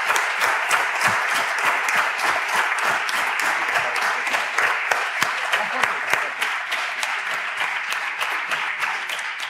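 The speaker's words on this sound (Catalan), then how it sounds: "un gran aplaudiment per tots vosaltres" An audience applauds the members of a municipal adolescent council at a council session in Santa Perpètua, with loud, sustained clapping that has a crisp, distinct beat of individual hands running through it.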